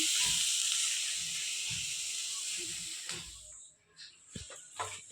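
Food sizzles and hisses steadily in a hot wok, the frying noise fading somewhat toward the end with a few clinks.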